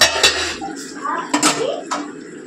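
Potatoes are added to a pot of Bengali-style desi chicken curry. A few close clatters and knocks of pot and utensil come one after another, along with some faint background sounds.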